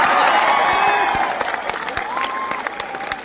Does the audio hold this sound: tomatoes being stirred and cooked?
no